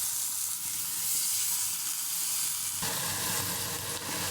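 Helencha greens go into a pan of frying tilapia, and a loud, steady sizzle hisses throughout, swelling and brightening partway through as the greens hit the hot oil.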